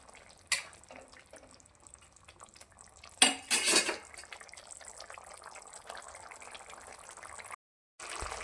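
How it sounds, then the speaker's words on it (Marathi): A spoon stirs a pot of Gavran-style moth bean curry after crushed peanuts are added, with a few sharp metal clinks and a scraping burst in the middle over a low, quiet background; no talking. "तर 1 चमचा शेंगदाणा कूट टाकून घेऊया आणि चांगला मिक्स करूया"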